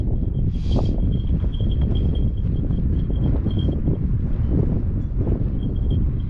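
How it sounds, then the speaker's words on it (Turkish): Constant heavy wind buffeting the microphone with a low roaring rumble, steady throughout, with a faint high tone in the background. "Ya üşümedim de rüzgar çok ya."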